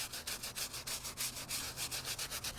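A kitchen dish scrubber works an oil stain on a block-paved driveway. Brisk, rhythmic scrubbing strokes rasp back and forth close up, steady and unaccompanied by other sounds.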